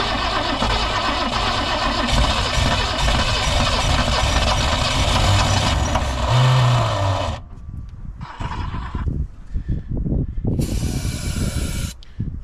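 A damaged 1964 Ford Ranchero engine being cranked on starting fluid: a long loud roaring hiss for about seven seconds, then a few short ragged bursts of cranking and sputtering separated by brief quiet gaps.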